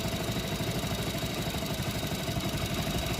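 Old Hero Splendor Plus motorcycle engine idling close by, a steady, even putter with faint clatter and no voices, the revs settling low after a carburetor screw adjustment.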